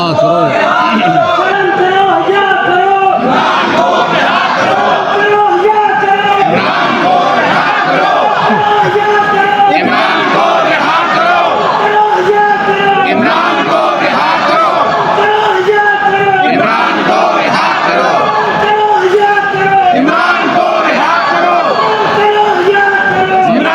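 Crowd chanting slogans at a Pakistani political rally where Arif Alvi speaks after leaving the presidency: a dense, loud mass of voices in rhythmic, repeated chant phrases, sustained throughout without pause.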